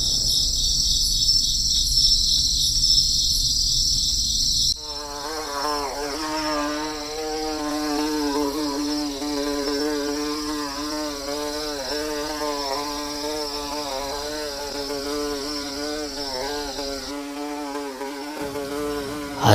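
Animated drone buzzes overhead like a bee above a quiet village, a steady, wavering insect-like whine that persists throughout and drops out briefly near the end, with no talking.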